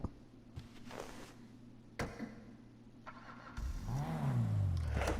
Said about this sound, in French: Vous allez écouter le bruit du moteur.